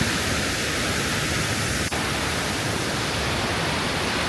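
Bopath Ella waterfall in Sri Lanka roars as a dense, constant broadband rush of falling water, loud and close for the whole clip.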